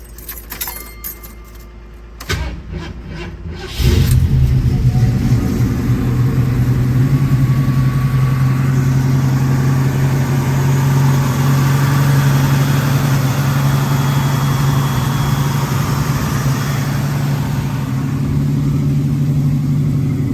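A 1970 Ford Mustang Mach 1 engine cranks briefly after some key jingling, then catches and settles into a loud, steady, rumbling idle that continues close by without talk.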